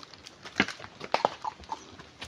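A cow walks across ground in a forested Konkan setting, its hooves landing in a few faint, irregular clopping steps against quiet outdoor background.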